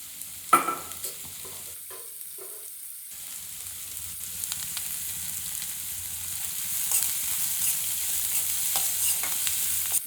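Onions and dried anchovies sauté in a pan with a low, steady sizzle. Occasional stirring clatters near the start, followed by a brief quiet gap before the frying hiss resumes and slowly grows.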